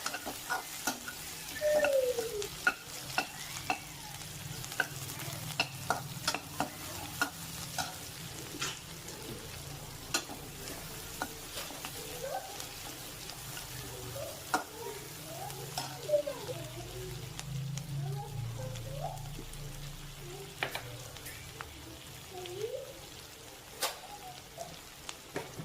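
Onions sizzle steadily in butter in a hot pan, with occasional scrapes and clinks of stirring throughout.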